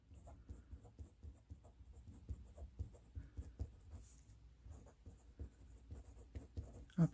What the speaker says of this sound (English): No, I'm going to write that, though.